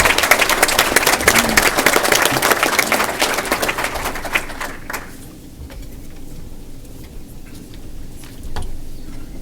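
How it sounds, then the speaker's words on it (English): Audience at an Alaska resources forum applauds panelists; dense clapping for about five seconds, then thinning to scattered claps over quiet room noise. "I'd like to give our panelists a round of applause."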